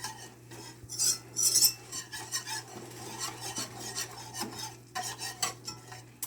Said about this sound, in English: I'm just going to kind of stir this around a little bit